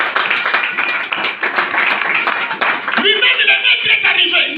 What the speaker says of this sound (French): Acclamez.